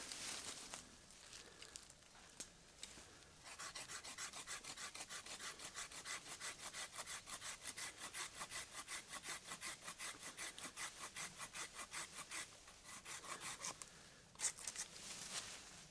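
An Amazon Basics folding saw cuts through wood in steady, rhythmic back-and-forth strokes, close and loud. A brief pause and a few lighter rasps come at the end, with no talking.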